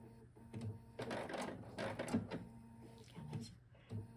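Domestic sewing machine taking a few stitches along a fabric dart, soft mechanical whirring and clicking in short bursts, quiet and close with faint talk around it.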